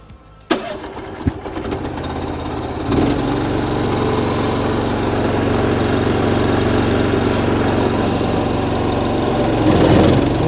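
Small MTZ Belarus 152N tractor engine starting up, then running with the PTO engaged, a loud steady close-up drone after a few sputtering catches.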